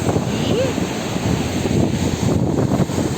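High-tide sea waves wash up the beach at Mandarmani on the Bengal coast, a continuous roar of surf heavily buffeted by wind gusting across the microphone.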